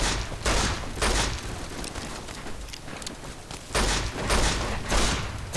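A silenced 10mm pistol in Fallout: New Vegas fires in repeated bursts. The muffled shots land as loud, close, broadband thumps over a steady noisy bed of game sound.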